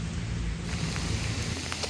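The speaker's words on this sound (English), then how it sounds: "we have had a significant amount of rain, and it's picked up, and it's pouring over top of the track here" Heavy rain pours steadily over a walking track, a dense, even hiss with no voices.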